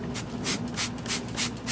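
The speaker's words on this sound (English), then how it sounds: "just spray it liberally around the filter." Short bursts of cleaner spraying in rhythmic pulses onto the intake area around a car's air filter, a Mitsubishi Galant VR4 with a 3G MAF intake; close, steady and moderately loud, no talk.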